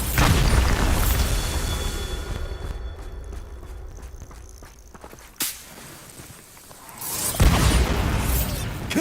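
Bombarda explosion spell from Hogwarts Legacy: a sharp whip-like crack opening into booming bursts, one sudden snap midway and another loud blast near the end, with no voices.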